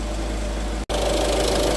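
A 2013 Peugeot 208 engine idles steadily, a close, continuous low drone with a mild mechanical knock and one instant dropout partway through.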